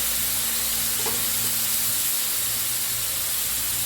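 Boiled meat soup poured into a hot pan bursts into a loud, steady hiss and sizzle, close and continuous with faint stirring scrapes.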